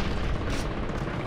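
A grenade explosion in Far Cry 3 fills the moment with a loud, sustained rumbling boom, dense and broad, with no voices over it.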